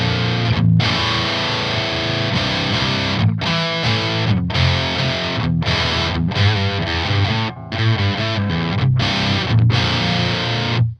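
A Mode Four M350 amp on its Amp 2 OD1 overdrive channel carries chunky, low-heavy distorted guitar, loud and continuous riffing with short gaps between phrases and chord stabs, with no voice.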